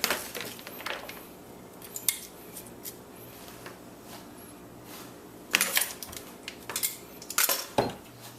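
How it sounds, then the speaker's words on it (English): Shredded pikliz vegetables are packed into a glass jar with scattered clinks, taps and scraping of a utensil against glass, sparse at first, then busier toward the end, close by with no talk. "I'm just going to grab some of this and just keep feeding it into the glass container"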